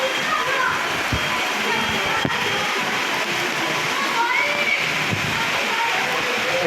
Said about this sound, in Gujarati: બધી જગ્યાએ ઠેર ઠેર પાણી